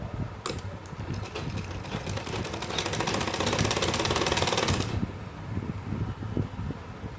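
A sewing machine stitches a palazzo pant, a fast continuous close-up whirring clatter that runs for a few seconds, with quieter handling sounds before and after.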